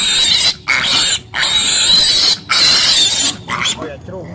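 A piglet squeals loudly in several long, shrill bursts separated by brief pauses while being caught for vaccination against diarrhea, with a person speaking nearby.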